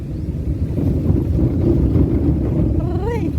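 Steady low rumble of a vehicle engine and road noise while riding, close and continuous, with a brief voice near the end.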